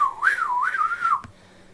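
A person whistles a wavering, sliding tune close by, rising and falling for about a second before stopping abruptly, followed by faint background noise.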